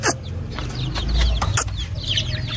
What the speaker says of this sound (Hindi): हरीश भाई इनको हटा दो, मुर्गियों को इनको हटाओ यहाँ से भगा दो।